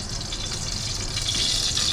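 Water spilling onto a stovetop under low flame while a Malvani clam masala cooks, a continuous hissing, trickling sizzle close by, no talk.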